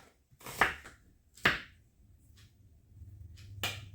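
A knife slices red onion thinly on a board, giving three sharp, close chopping strikes spaced apart, with faint lighter taps between them in an otherwise quiet room.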